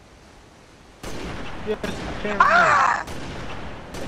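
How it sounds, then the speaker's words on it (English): A blast goes off in a shooter video game, a broad burst that swells and trails off mid-clip under excited voices of players talking over each other. "There is an explosion on the side of you."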